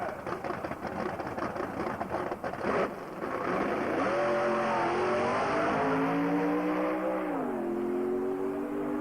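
A drag race car on a test run at Tarlton International Raceway screams past, loud engine noise giving way to a sustained high-revving whine that shifts pitch as it accelerates down the strip.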